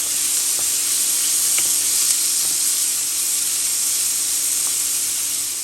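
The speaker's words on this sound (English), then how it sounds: "I'm just going to cook the onions until they're translucent." Onions cooking over medium heat in butter and canola oil give off a steady, bright sizzling hiss that holds constant, with a few faint ticks and no talking.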